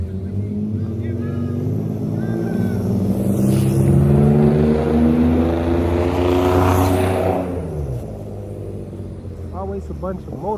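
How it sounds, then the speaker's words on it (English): A Dromida Ominus quadcopter drone in flight gives a steady, loud motor drone that swells near the middle and fades toward the end, with changing pitch as it maneuvers; there is no speech. "Always a bunch of motor noise."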